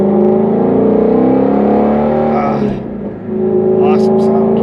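A sports car with a Tremec transmission revs hard and climbs in pitch as it accelerates, loud and close, easing briefly before pulling again.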